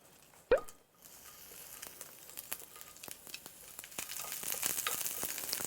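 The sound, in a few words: stir-frying in a pan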